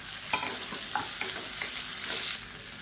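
Onion and chopped tomatoes sizzle in a pan while being stirred for tomato chutney, a steady frying hiss broken by a few scraping strokes of the spoon.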